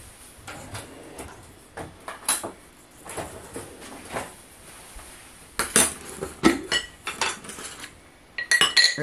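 A spoon clinks and scrapes against a pot as a tablespoon of cornstarch is added to a boiling pea and vegetable stew, giving irregular metallic knocks and stirring clatters that grow busier toward the end.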